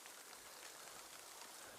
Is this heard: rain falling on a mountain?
yes